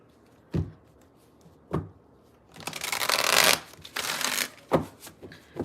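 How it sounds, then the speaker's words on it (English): Cards being shuffled close up: a few sharp riffles and taps, then a longer dense flutter of cards, ending with a couple of soft snaps. "Let me shuffle some cards."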